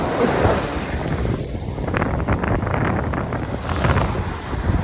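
Waves washing on a Miami seashore with strong wind buffeting the microphone, a loud continuous rushing roar with surging swells and no voices.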